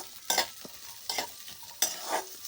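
Fish curry masala fries in a pan as it is stirred in three distinct bursts, each a rough scraping swish over a quiet, faint sizzle, heard close with no voices.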